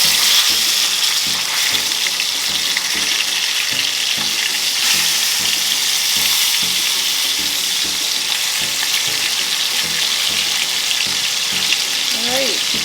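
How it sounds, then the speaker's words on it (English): Oxtail pieces searing in a hot pan for Caribbean oxtail, a loud dense sizzle that crackles steadily throughout, with a few faint clinks near the end. "You're going to continue this process with all your oxtail and searing on each side."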